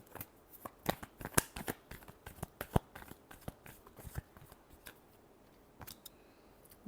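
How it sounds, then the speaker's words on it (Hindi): A deck of playing cards is shuffled in a quick run of crisp riffling bursts and flutters, close up and fairly quiet, with no talking over it. "Last shuffle."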